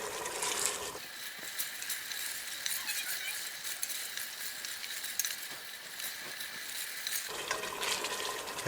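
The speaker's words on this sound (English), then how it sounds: "Now you can see when I scrape the spoon on the bottom of the pan" A spoon scrapes and stirs along the bottom of a pan of thick, bubbling sausage gravy with onion, giving a steady sizzling hiss broken by soft scraping strokes, close and fairly loud.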